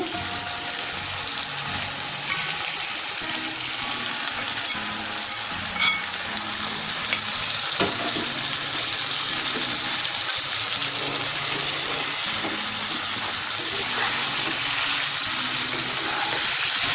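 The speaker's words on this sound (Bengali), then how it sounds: "তেলে ভালো করে ভাজা করতে হবে।" Bottle gourd with onions fries in oil, making a continuous moderate hiss with faint occasional stirring clicks, steady and close for the whole stretch.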